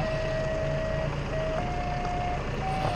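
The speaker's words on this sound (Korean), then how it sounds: "지금 저렇게 보이고 그대로 후진하고 있죠" Steady, repeating backup beeps from a reversing forklift, a high electronic tone pulsing under a constant loud engine drone, close and continuous without speech.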